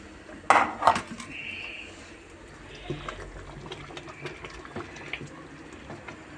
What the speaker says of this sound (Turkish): Şimdi bunu su koyuyoruz.